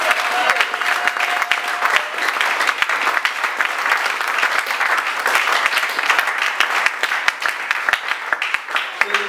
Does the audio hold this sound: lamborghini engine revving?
no